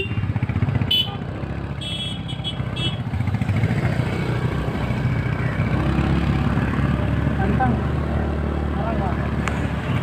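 Motorcycle engine labouring steadily up a steep mountain road toward Kodaikanal, a continuous loud drone with wind noise, while people talk over it.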